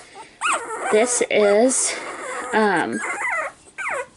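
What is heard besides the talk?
Cockapoo puppy whimpering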